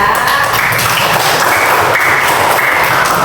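Students in a classroom clap together, producing a loud burst of dense applause with a few sharper individual claps standing out.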